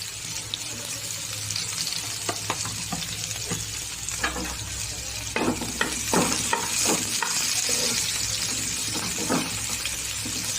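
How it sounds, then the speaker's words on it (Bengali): Onions frying in mustard oil, a steady near hiss of oil with scattered stirring clicks and scrapes, heaviest in the middle and fading toward the end, no talking. "পেঁয়াজ ভেজে নিচ্ছি।"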